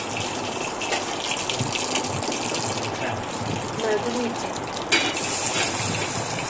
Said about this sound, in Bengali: তো দেখুন খুব সুন্দর করে মাছ ভাজি হয়ে যাচ্ছে